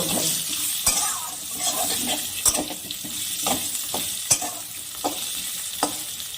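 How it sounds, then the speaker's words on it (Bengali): Potatoes sizzle in hot oil in a pan, a steady crackling hiss broken by sharp clinks and scrapes of stirring at irregular intervals. "এবার আমি তেলের মধ্যে আলুগুলোকে ছেড়ে দিই। এই আলুগুলোকে এবার ভেজে নিব।"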